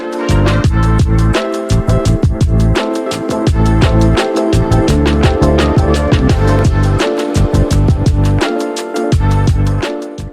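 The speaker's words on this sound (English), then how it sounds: "Over here I have loaded the version echo effect" A loud, steady electronic dance beat with punchy kicks and busy percussion, repeats trailing and smearing between hits as a Pioneer DDJ-REV1 DJ controller's echo effect plays over it.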